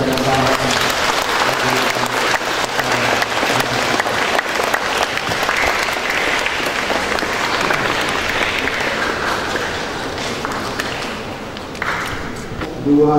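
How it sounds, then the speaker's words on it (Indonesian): Long, loud applause from a church crowd at a First Holy Communion Mass in Lewoleba, Lembata, honoring SDK 1 Boleba, steady and thick with a few voices mixed in and a brief lull near the end. "kita sama-sama memberi apresiasi tepukan tangan buat SDK 1 Boleba yang sudah membangun"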